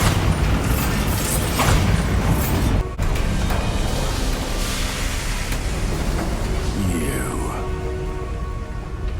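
A Bombarda blast spell goes off in Hogwarts Legacy, a loud rumbling boom over dense game noise with a sharp cut partway through, followed by lighter crackling effects.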